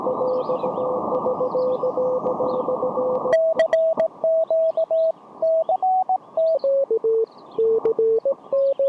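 A steady radio tone gives way to a clear Morse code CQ call, short and long beeps keyed in a regular rhythm, with faint static underneath, heard on a portable low-power station.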